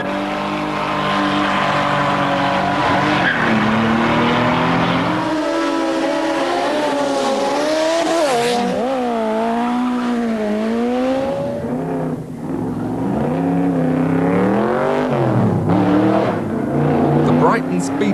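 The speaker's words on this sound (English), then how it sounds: "All sorts of people in all sorts of cars and motorcycles racing down the seafront." Cars and motorcycles race down a seafront course at British speed trials, with engines revving and rising in pitch as they accelerate past, several loud passes over about eighteen seconds.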